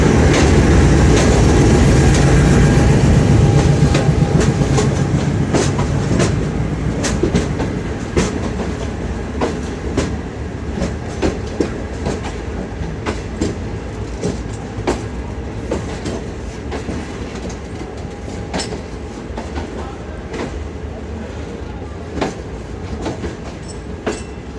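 Green Line passenger train running from Lahore toward Karachi, a steady loud rumble of wagons with rhythmic clickety-clack of wheels over rail joints throughout, easing slightly in loudness after the first few seconds.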